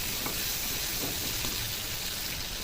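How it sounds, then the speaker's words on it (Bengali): Prawns with a little turmeric and salt fry in hot oil, giving a steady, loud sizzle and crackle throughout with faint stirring ticks, no voices. "এই মাছটাকে একটু ভেজে নেব।"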